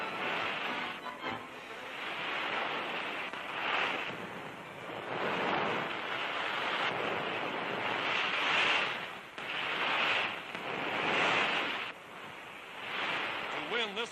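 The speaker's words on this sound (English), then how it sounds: "Coming in on breakers at top speed, they handle their rubber surfboards with remarkable skill." Big ocean breakers rolling in where riders on rubber surfboards race the waves, a broad washing roar that swells and recedes in repeated surges, steady and fairly loud with a windy hiss.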